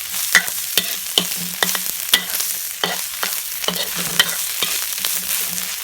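Fish larb ingredients stir-fried in a hot pan, loud continuous sizzling broken by regular sharp scrapes and taps of a utensil against the pan, close up.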